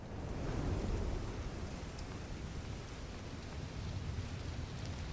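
Steady rain hiss in a video game, a constant broadband wash with a faint low rumble, continuous and even throughout with no voices.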